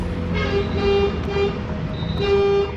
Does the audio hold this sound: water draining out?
no